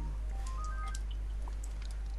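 Telephone keypad tones beep in a quick series of short, faint electronic notes over a steady low hum, with no talk.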